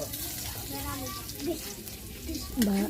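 Chopped onion sizzles in a hot frying pan, a soft steady crackle and hiss that swells near the end as more onion hits the oil, with a voice talking faintly over it.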